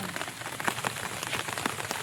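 Rain patters steadily on a surface nearby, with scattered louder drops tapping through a continuous soft hiss.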